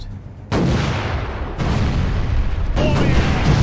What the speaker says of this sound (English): Fire those damn cannons!